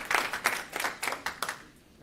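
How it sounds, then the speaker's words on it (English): Rhythmic audience clapping at a Fountain Valley city council meeting, about seven evenly spaced claps that trail off, moderately close and alone. "Hard to hear with the clapping."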